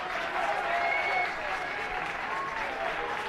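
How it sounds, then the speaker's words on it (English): Crowd applauding at a baseball game in Eugene, a sustained burst of clapping and cheering from the stands heard at moderate distance, steady throughout with a faint voice underneath. "get a big applause from the crowd of Eugene faithful that are here"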